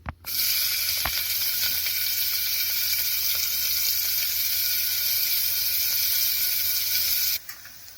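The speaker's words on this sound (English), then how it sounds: "I am using sesame oil. Even oil is your choice. You can make use of any oil, whatever is your wish. And now add the chopped onion to this." Chopped onion hitting hot sesame oil in a pan for pepper chicken gravy, giving a loud, steady, continuous sizzle that starts abruptly and cuts off sharply after about seven seconds.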